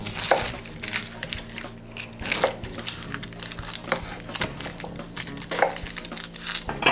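Knife chopping an onion and vegetables into large chunks on a cutting board for lobster stock, a series of sharp irregular knocks and thuds, close and fairly loud, no talk.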